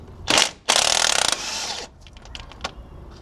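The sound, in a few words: socket ratchet removing bolt on Ford F150 wheel bearing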